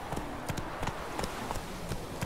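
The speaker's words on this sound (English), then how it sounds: "Look at my horse, my horse is amazing" A horse in The Witcher 3 game trots along, its hooves making a steady, rapid clip-clop under a dense, continuous wash of game ambience, moderately loud and close.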